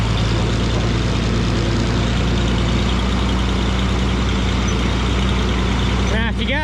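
Farm tractor hauls loaded bean wagons with a loud, steady, close engine drone that never lets up. Near the end a brief hissing burst sounds, like an air release.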